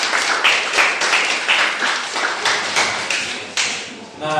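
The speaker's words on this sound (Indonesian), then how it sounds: "Tepuk tangan untuk kelompok 1." Classroom applause for a student group, a dense patter of claps from a roomful of students with uneven swells, fairly close and loud throughout.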